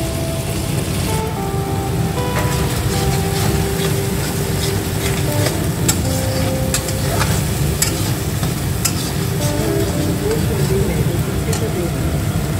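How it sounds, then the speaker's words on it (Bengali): Tomato and spice paste with raw peanuts, chilli and garam masala frying in a pan, a continuous close sizzle broken by frequent stirring scrapes and clicks, with faint voice in the background. "এই টমেটোর সঙ্গে মশলাটাকে ভালো মতন এখন ভেজে নিতে হবে"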